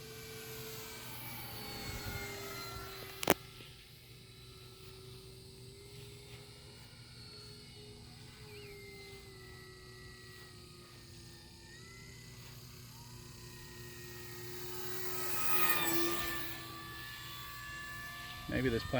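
FMS 1500mm P47 model airplane flying an inverted pass, its engine whine distant and faint, swelling as it passes close near the end, with a voice talking over it.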